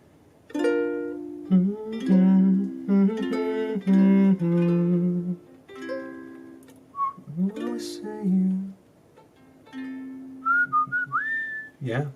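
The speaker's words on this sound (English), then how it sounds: "I feel like that's in the wrong key that I'm whistling." A person whistles a melody in clear, sustained pitched phrases that rise and fall, close and fairly loud, with short pauses between phrases and no talking over it.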